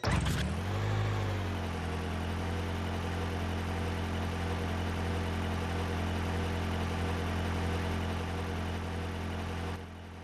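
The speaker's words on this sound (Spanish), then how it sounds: "Cierro contacto y pongo en marcha." A car engine cranks briefly and catches, settling into a steady, even idle with a constant low hum and light vibration, close by and uninterrupted until it cuts off right at the end.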